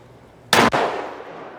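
Single sharp .220 Swift rifle shot fired through a chronograph, a loud close crack with a quick second report and a decaying echo tail.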